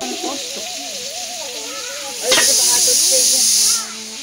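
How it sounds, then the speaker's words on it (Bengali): A pressure cooker on a cooking stove lets out a loud burst of steam hiss that lasts about a second and a half. It starts abruptly and cuts off, while a voice talks in the background around it. "জল পড়ে যাচ্ছে নাকি গো? প্রেসার কুকারটা ওরম জল পড়ে?"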